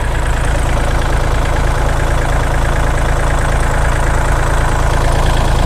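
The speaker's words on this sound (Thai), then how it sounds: "เรามาดูห้องเครื่องกันนะคะ" A Kubota L3008 tractor engine idles close by with a steady, loud diesel rumble and fast even knocking that holds without change throughout.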